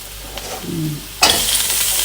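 Curry paste and carrots stir-frying in a pan for a Thai stir-fried chili-ginger pork crackling dish, a soft sizzle that jumps to a loud, bright frying hiss as the carrots hit the pan, with no talking.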